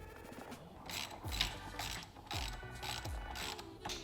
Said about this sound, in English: we're going to put this bolt back in